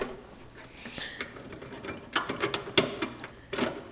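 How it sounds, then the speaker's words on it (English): Horn mounting bolts on a Honda S800 being tightened by hand, close small metallic clicks and ratcheting ticks in quick irregular bursts, with no voices. "I'm simply going to hover over the mounting points and just hand tighten them"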